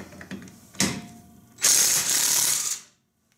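A Dewalt DCF889HM2 half-inch 20V cordless impact wrench with a 17mm socket loosens lug nuts. A short hammering burst is followed by a longer, loud rattling run of about a second. The tool then stops and leaves silence.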